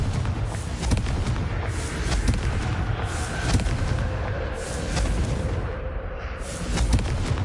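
Confringo fire spell blasts boom repeatedly in the Hogwarts Legacy video game, a dense, loud run of explosive thuds and rumbling impacts with almost no gaps.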